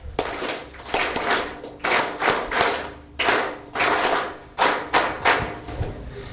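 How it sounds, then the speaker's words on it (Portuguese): Bursts of loud, rhythmic clapping rise and fall in several waves with short pauses between them, from a gathering at Venâncio Mondlane's New Year address to the Mozambican nation. "Uma forte salva de palmas"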